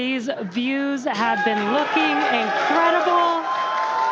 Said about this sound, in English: you can hear the crowd is very excited about it